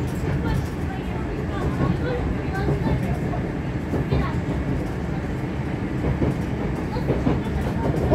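Rumbling metro carriage rolls past on the Moscow Fili–Kiyevskaya stretch with steady rattling and clicking of wheels over track joints, a continuous noisy drone throughout.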